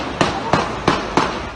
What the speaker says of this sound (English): Y'all hear those gunshots